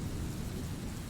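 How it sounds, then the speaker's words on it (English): Storm with wind and rain, a dense low rumbling roar of heavy rain and gusting wind, continuous and steady, with no voices. "The wind bent the trees sideways, and the rain felt like needles against his skin."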